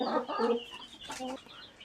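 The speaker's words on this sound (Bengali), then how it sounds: "এই যে দেখতে পাচ্ছেন সাদা একটি মুরগির সাথে অনেকগুলো বাচ্চা আছে।" A white native hen with a brood of chicks clucks on a small backyard poultry farm, a few close, throaty clucking calls in short bursts with faint cheeping between them.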